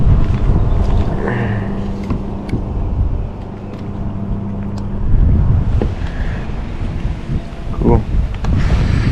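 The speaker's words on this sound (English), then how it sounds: "It's a real windy one today too." Strong wind blustering across a lake during a fishing outing, a steady broadband roar buffeting the microphone throughout, with gusts swelling and easing and faint voices in the background.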